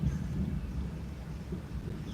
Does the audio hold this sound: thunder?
yes